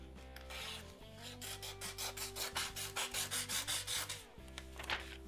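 A knife blade scraping across a sheet of paper without cutting into it, giving a run of close, rhythmic rasping strokes over a steady low hum.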